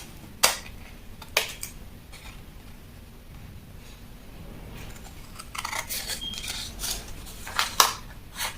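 Scissors cutting out a drafted paper shirt sleeve pattern folded in two, a few faint crisp snips and rustles over a quiet room, growing busier near the end.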